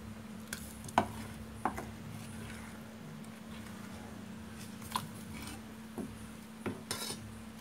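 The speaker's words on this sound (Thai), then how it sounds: "ผัดให้หอมนะคะ" Curry paste is stir-fried in a pan with a spatula, giving soft scraping and occasional sharp clinks of utensil on metal over a low, quiet background hum.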